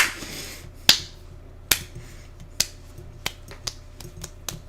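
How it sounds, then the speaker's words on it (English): A slow clap, single sharp hand claps spaced about a second apart, each one crisp and close, gradually quickening slightly, with quiet gaps between them. "Fucking slow clap."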